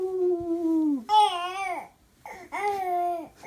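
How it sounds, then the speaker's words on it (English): A three-month-old baby coos in three drawn-out, tonal vocal phrases that rise and fall in pitch, with short pauses between them, close and fairly loud with no other voices. "At 3 months of age, you're starting to hear adorable coos and some other noises other than"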